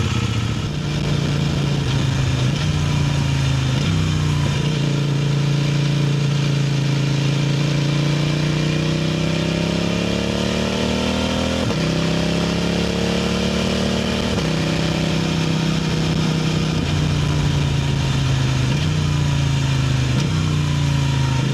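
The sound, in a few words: motorcycle engine idling with stock exhaust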